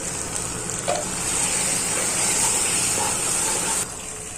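Cleaned dried prawns hit a pan with ground masala paste and turmeric for a village-style ridge gourd curry, a close steady sizzle that swells briefly then settles slightly quieter, no voices.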